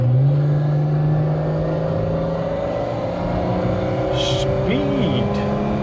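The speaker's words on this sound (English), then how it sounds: "I think it's time to do a little kickdown test just for the fun of it." A 1970s automatic car accelerating hard in a kickdown test, its engine a loud, steady drone that climbs slowly in pitch without a break for about six seconds.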